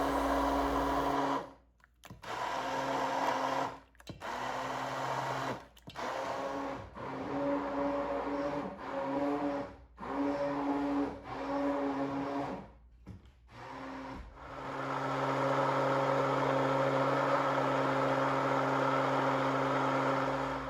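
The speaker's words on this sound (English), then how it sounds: "I'll be using an immersion blender" A handheld immersion blender blends soup for gazpacho, whirring in repeated bursts, cutting out and restarting several times before running steadily at the end; loud and close, no talking.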